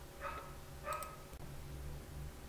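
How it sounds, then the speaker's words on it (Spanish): A dog barks twice in the distance, short muffled yips heard faintly over a low steady room hum, with no talking. "Un perro, bueno."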